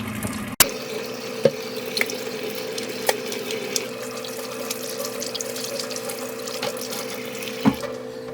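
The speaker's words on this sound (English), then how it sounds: "the first step is to wash your hands" Tap water runs steadily into a sink while hands are washed under it in a home kitchen, close and continuous, with a sharp clunk near the start and a few light knocks and splashes.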